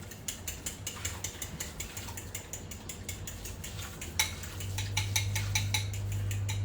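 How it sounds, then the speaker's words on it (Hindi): Two eggs are beaten in a bowl with rapid, rhythmic metal clinking against the sides, close and steady throughout, with no voices. "यहाँ पे 2 अंडे मैं एक बोल में निकाल के हल्का सा फेंट के"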